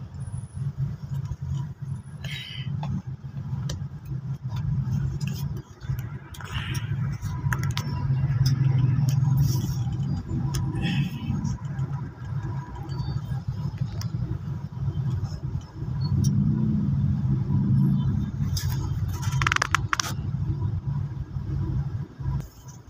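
A truck sits bumper to bumper in heavy early-morning road traffic, its engine idling with a steady low rumble alongside nearby vehicle engines, while voices talk over it throughout.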